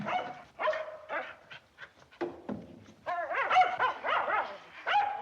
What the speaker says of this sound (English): Let him howl if it makes him feel good.